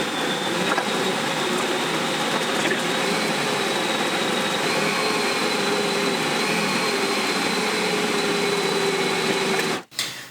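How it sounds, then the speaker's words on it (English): A Bosch stand mixer spins dough with a steady, loud motor whine and churning hum that runs unbroken, then cuts off abruptly near the end. "One of the really, really nice things about these Bosch mixers is you don't have to keep stopping to scrape the bowl down"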